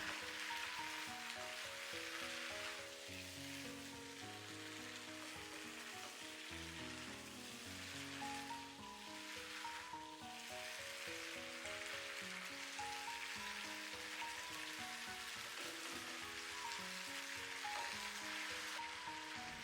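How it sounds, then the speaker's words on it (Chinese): Green beans stir-fried in a pan with oyster sauce and a spoonful of sugar, producing a faint, continuous sizzle under a louder melodic background for the whole stretch. "將它們翻炒均勻"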